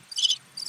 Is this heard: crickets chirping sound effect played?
yes